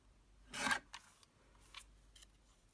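Paper trimmed for a junk journal tag: one brief, close rasping cut followed by a few fainter, shorter snips and rubs, quiet overall.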